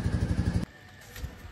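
A motorcycle engine runs at a steady pulsing idle, close and fairly loud, then cuts out abruptly about halfway through, leaving quiet road noise and faint rumble.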